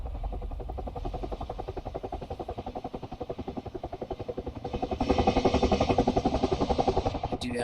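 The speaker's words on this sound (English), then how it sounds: "We do have a chopper." A military helicopter in the combat flight game DCS thumps with a rapid, steady rotor beat and engine whine, growing louder and nearer partway through, heard alone without speech.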